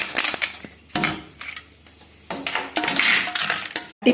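Ice added to chopped watermelon for a milk sarbath: clinking, rattling cubes drop and knock against a container in a few close, irregular clatters.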